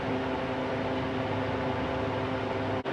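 A freeze dryer loaded with mashed potatoes, cookies and apples hums steadily through its cycle, a constant close mechanical drone with a low tonal whine, broken only by a brief dip near the end.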